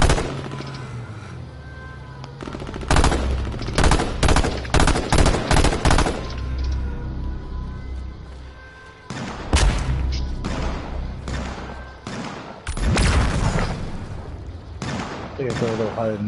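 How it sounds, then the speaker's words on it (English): Gunfire from players battling in the video game H1Z1: loud bursts of rapid automatic shots and single cracks in dense clusters, some near and some more distant, with pauses between volleys and voices talking over the action. "They're right in front of us, shooting at each other."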